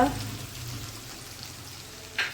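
Ginger and garlic paste sizzles and fries in hot oil for a prawn malai curry, a steady soft crackle that fades slightly, with a brief louder burst near the end.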